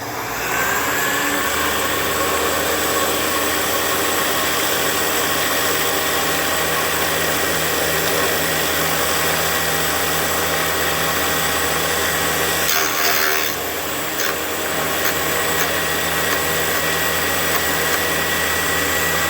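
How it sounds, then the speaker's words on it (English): A Black and Decker valve resurfacer's stem grinder runs with a steady, even motor whine and hum, close and alone, holding constant for the whole stretch with a slight change near the end. "let's try the stem grinder"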